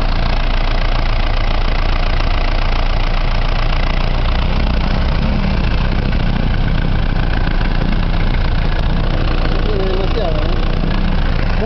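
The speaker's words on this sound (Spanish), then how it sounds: "Lo parejito que suena este motor." Rastrojero truck engine, a 1962 model, idling smoothly and evenly at close range, a steady broad rumble with someone talking faintly over it.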